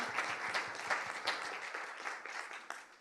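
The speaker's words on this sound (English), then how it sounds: "Again, we are clapping away." Applause from an audience at a hackathon pitching and awards session, a fairly faint patter of many hands with a few distinct individual claps, tapering off slightly toward the end.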